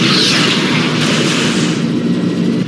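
Missile explosions in the space combat game Rebel Galaxy, a loud, sustained roaring blast that fills the whole clip with dense rumble and hiss, heard up close with no voices over it.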